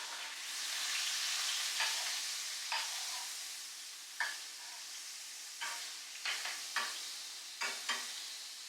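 King scallops fry in a hot pan with a steady, close hiss. Sharp crackles and spits break through every so often, and no one speaks.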